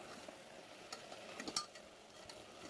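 Spices being stirred into half-cooked rice and lentils in a pot, soft scraping and light sizzle with a few faint clinks, quiet and close throughout.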